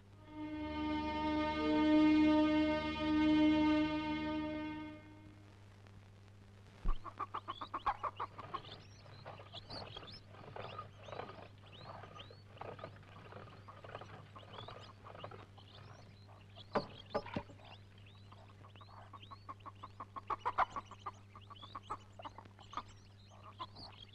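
Chickens cluck and chatter in a village near Velankanni, a scattered run of short, close calls that follows a loud sustained tone in the opening seconds.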